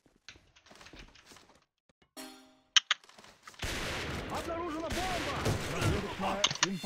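Gunfire in the online shooter A.V.A: scattered sharp shots and clicks early on, then a louder sustained burst of rapid firing with game effects in the final seconds, over quiet background.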